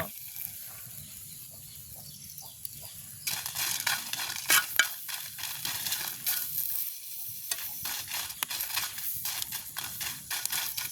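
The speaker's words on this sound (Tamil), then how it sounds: "அதுக்கு நாங்கள் மிளகாயை வறுத்தெடுப்போம். நாங்கள் இதுலேயே வறுத்தெடுப்போம்" Dry chillies being roasted on a hot roti griddle stone, a steady crackling sizzle with stirring and scraping that grows busier and louder partway through, no talking.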